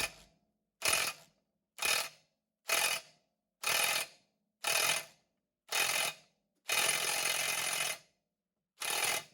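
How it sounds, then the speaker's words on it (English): An impact gun works on the retainer nut of a Mercruiser outdrive lower unit, firing a series of about nine loud, close rattling bursts, each roughly half a second long, with one longer burst near the end. "From here, I'm going to transition to the impact gun."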